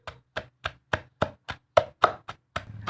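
Grilled shrimp being pounded in a mortar for a Thai jaew dip: about eleven sharp, evenly spaced thuds in steady rhythm, close and distinct with brief decays and no talking.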